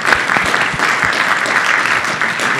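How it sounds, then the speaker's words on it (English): A round of applause from a forum audience for a discussion panel, dense and steady clapping from a full room, loud and close, with no talk over it. "We all give them a round of applause."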